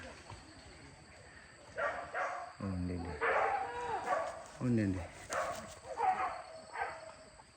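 A dog yips and barks in short bursts during a hunting outing in the field, with several voices talking and calling over and between the barks.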